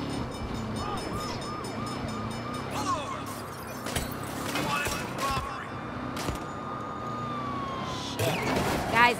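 Police car sirens in the video game Saints Row during a chase, wailing sirens over engine noise and bursts of gunfire, with a voice speaking partway through.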